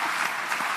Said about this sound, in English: Let's give Professor Chan a round of applause.